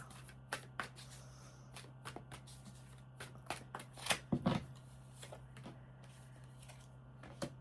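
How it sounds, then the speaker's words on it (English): Tarot cards being shuffled in quiet, intermittent bursts of papery riffling and tapping, with one louder flurry near the middle, close to the microphone. "I'm just shuffling and, setting the intention here"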